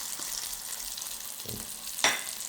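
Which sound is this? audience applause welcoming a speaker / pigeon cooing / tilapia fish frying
tilapia fish frying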